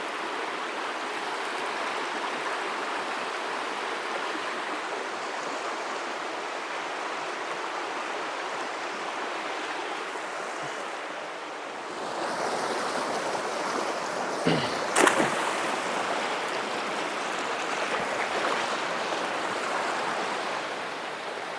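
Water rushes steadily over rocks in a creek, a continuous broadband wash that grows fuller and closer partway through, with a couple of brief knocks near the end.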